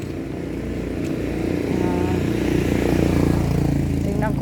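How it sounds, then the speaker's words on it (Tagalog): A motorcycle passes by on a street at night, its engine hum rising from faint to a steady, fairly close drone, with a voice briefly speaking over it. "May motor. Dumaan."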